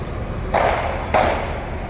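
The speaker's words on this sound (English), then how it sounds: "Sounded like gunshots." Two sharp gunshot-like bangs in a city street, about half a second apart, each a sudden crack with a short ringing tail over steady outdoor background noise.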